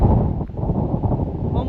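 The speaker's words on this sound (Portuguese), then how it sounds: "o vento voltou" Wind gusting across a coastal trail down to a beach in Portugal in spring, a steady loud low rumble buffeting the microphone throughout, with brief rustling.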